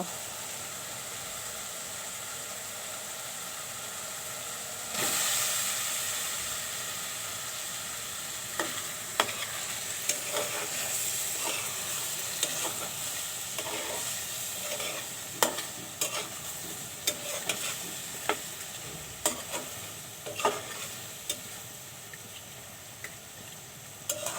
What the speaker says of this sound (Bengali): মশলাগুলো কষানো হয়ে গেছে, এখন আমি এখানে চিংড়ি মাছগুলো দিয়ে দেব